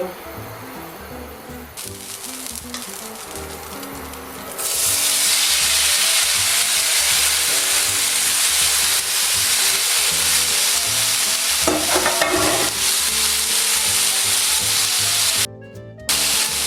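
Strips of beef hit a hot pan for a curry and fry with a loud, steady sizzle while being stirred and scraped with a utensil. The hiss swells and holds throughout, with a brief break near the end.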